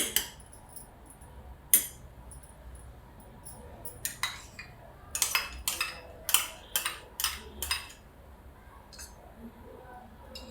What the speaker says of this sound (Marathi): असं फेटून घ्यायचं दुधामध्ये दही